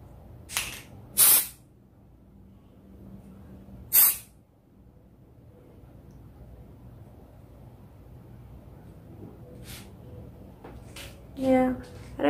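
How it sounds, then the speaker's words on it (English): Temporary hair color spray from a Dollar Tree can, sprayed onto a no-sew tutu dress in several short, loud hissing bursts with pauses between them, over a quiet room background. "We're gonna spray it around, and it smells good."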